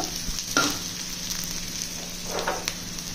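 Boiled potatoes fry with an onion tempering in a pan, making a soft, steady sizzle with a few brief scraping stirs near the start and again later.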